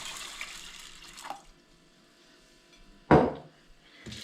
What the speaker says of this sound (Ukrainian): Добавляем літр воды.